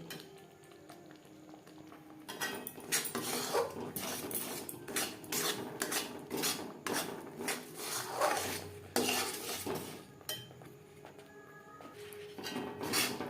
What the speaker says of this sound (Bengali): সুজি বেশ ভালো করে চিনি শিরার সাথে মিক্স করে দেব এইভাবে অনবরত নাতে থাকবো যতক্ষণ না পর্যন্ত কড়াই থেকে ছেড়ে আসছে